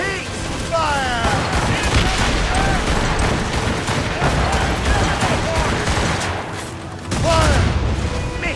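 Naval cannon broadsides in Assassin's Creed Rogue, a dense continuous barrage of booming gunfire rolling through the whole stretch, loud and close, with a heavier burst near the end and shouted crew voices mixed in.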